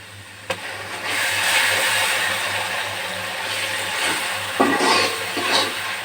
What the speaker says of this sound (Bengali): এখন আমি বাটা মশলাগুলি দিয়ে দেবো